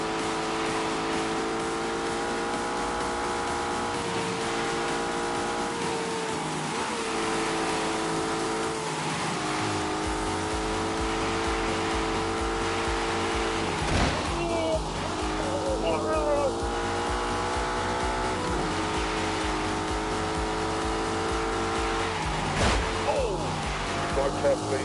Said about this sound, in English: Those turbochargers may be a little bit annoying on the road, but here they're giving with the low-down torque that I need to get up this hill.